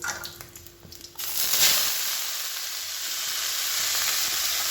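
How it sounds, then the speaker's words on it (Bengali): Kalmi greens frying in a pan: a dull clatter at first, then a sudden loud, steady hissing sizzle that carries on close by for several seconds, with no speech. "কলমি শাক ভাজা করব"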